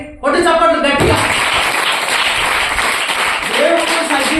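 A church congregation claps loudly together during a Sunday worship service, a dense sustained burst of applause that starts abruptly and continues throughout, with a voice speaking over it near the start and again toward the end.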